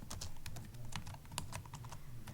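Rapid, uneven clicking of computer keyboard keys, close and fairly quiet, with irregular bursts and brief pauses and no voices.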